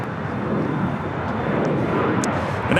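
An airliner takes off from a runway at LAX, its engines a loud, broad, steady roar that holds at full strength for the whole stretch, heard from nearby.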